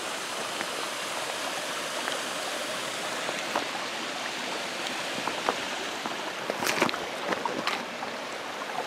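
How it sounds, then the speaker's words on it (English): A creek rushes steadily over rocks in a continuous broad hiss, with occasional splashes and gurgles, close and fairly loud, on a winter hike. "See if we can get across the creek here without too much trouble."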